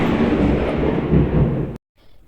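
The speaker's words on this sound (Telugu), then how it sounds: "ఏదో సౌండ్ అనుకుంటున్నారా పెద్ద ఉరుము ఉరివింది" A loud, deep rumbling roar of thunder fills the moment, then cuts off abruptly into near silence.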